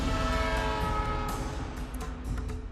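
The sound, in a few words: train slowing down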